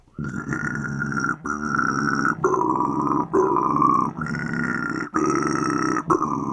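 Voiced, gargling growls in a string of short bursts with brief breaks, a throaty imitation of heavily pitch-shifted extreme-metal vocals.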